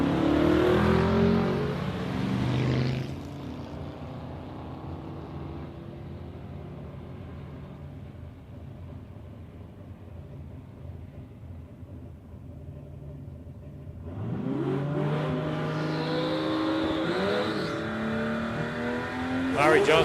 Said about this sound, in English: So the Statesman takes on the XC Falcon.